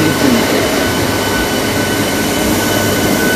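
Local train rolling into Belur Math station, a loud continuous rumble and rattle of carriages with a faint high whine, heard from on board; no talking.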